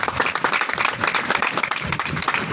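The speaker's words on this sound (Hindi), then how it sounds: "सर के लिए जोरदार तालियां।" Applause from an audience at a jewellery company event, a dense continuous wash of many hands clapping, steady and fairly loud throughout with no voices over it.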